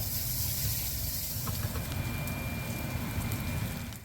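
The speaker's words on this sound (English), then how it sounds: "And the onions cooking down." Chopped onions cook down in a hot pan with a steady, close, broadband sizzle and hiss that runs unbroken from start to finish, with no voices over it.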